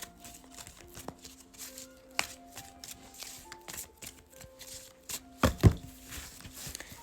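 Tarot cards shuffled and picked by hand during a reading, a soft papery rustle with scattered light taps and flicks, building to a couple of sharper snaps near the end, fairly quiet and close.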